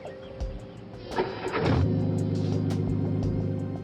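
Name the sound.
car engine failing to start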